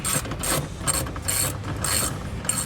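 A ratchet wrench tightens a 10mm bolt on a Mustang styling bar in bursts of rapid clicking, several separate strokes with short pauses between them, close and clear with no talking.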